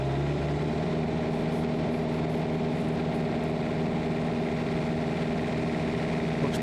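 A Bobcat T190 skid steer engine runs at high throttle, a steady loud drone with a strong low hum that holds constant throughout, no voices over it.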